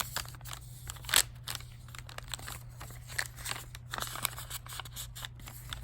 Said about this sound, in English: the sound of paper